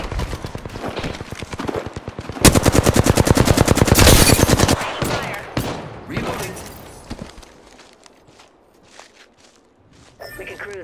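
Rapid automatic gunfire in the battle-royale shooter Apex Legends, dense bursts of rattling shots peaking in a long loud stream, then scattered footsteps and quieter single shots as the fire tapers off.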